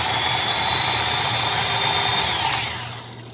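A stand mixer whirs steadily, churning dairy-free chocolate chip cookie dough in a bowl, a loud continuous motor drone that winds down near the end, no talk.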